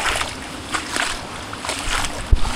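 Floodwater current sloshes and splashes as someone wades through it during a typhoon, with a brief heavier splash near the end.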